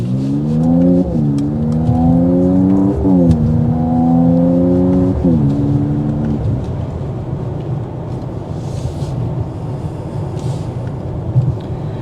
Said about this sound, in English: Got it in sport, and here we go.